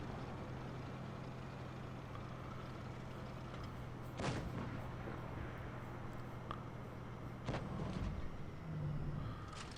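In a World of Tanks Blitz battle with Soviet tier 10 medium tanks, a tank cannon fires in two sharp booms about three seconds apart. Steady engine rumble and battle ambience run underneath.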